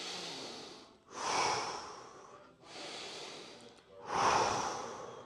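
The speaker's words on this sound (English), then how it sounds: "Just get a couple deep breaths," Deep breathing after an arm exercise workout: four long, slow breaths alternating in and out, close and clearly audible, with no talk over them.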